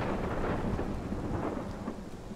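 A thunderstorm in the video game Life is Strange rumbles with heavy, continuous thunder over dense pouring rain, loud and enveloping with no voices.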